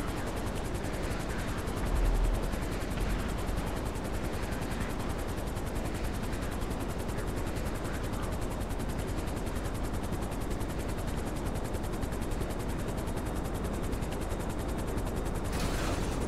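A helicopter in the GTA video game, hovering close and loud with steady dense rotor noise throughout, with no talk.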